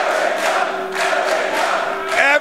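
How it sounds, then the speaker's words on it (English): Crowd at a live wrestling event cheering and shouting in repeated surging waves, loud and fairly close, with no clear speech over it. "Listen to this crowd."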